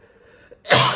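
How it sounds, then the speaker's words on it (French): One sharp, close sneeze bursts out loudly after a short quiet intake of breath. "La tchoumerie égale éternuer, hein, dans le jargon."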